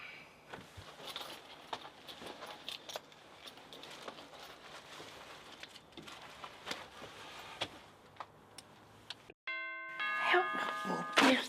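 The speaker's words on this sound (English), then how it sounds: "Oh, there's the doorbell." Near the end, a doorbell chimes loudly with ringing tones right after a sudden quiet break, following a stretch of clattering background noise.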